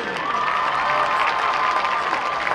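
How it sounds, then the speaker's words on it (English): Crowd applause and cheering for the Bobcat cheerleaders at a high school football game, steady clapping from a stadium audience at moderate distance for a few seconds. "a round of applause for the Bobcat cheerleaders"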